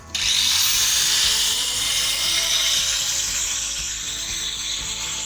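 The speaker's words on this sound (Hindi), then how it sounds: "ये 450 वाट का ग्राइंडर है" A 450 watt angle grinder powered by a generator whines steadily at close range, a loud continuous high-pitched spin that starts abruptly and slowly eases slightly in level, with no voices.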